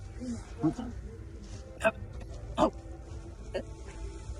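A man imitates a dog's bark with his voice, giving a few short, sharp yelps spaced apart over quiet background noise, with some talk nearby.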